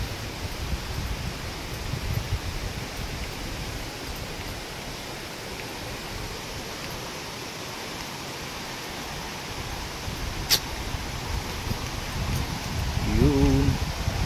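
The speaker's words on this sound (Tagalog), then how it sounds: "Sarap ng simoy ng hangin." A steady, soft breeze rustles through leaves on a walk in Infanta, Quezon, a broad even hiss throughout, with a faint click and a brief low sound near the end.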